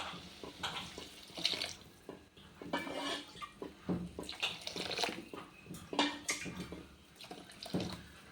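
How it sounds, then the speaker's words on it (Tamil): Hot water splashes and trickles in uneven bursts into a pot while making Chettinad rice puri dough, with light clinks of metal and dishes nearby. "சூடு தண்ணி ஊற்றிக்கிறேன்."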